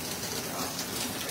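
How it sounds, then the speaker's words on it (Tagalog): Heavy rain falling during flooding, a dense steady hiss of drops on surfaces, fairly faint and continuous for a short moment with no other sounds standing out. "Ayan yung ulan."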